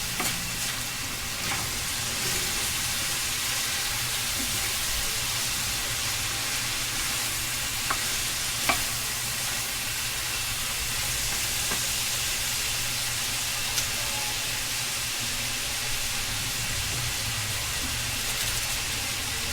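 Spaghetti sauce ingredients sauté in a hot pan with a steady, even sizzle and a few faint clicks of utensils, close and unbroken throughout.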